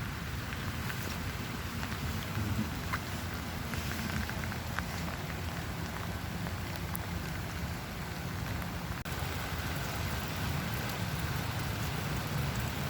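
Steady rain falls on surfaces outdoors, a dense continuous hiss with scattered drip taps that stays even and moderately loud throughout, with no voices heard.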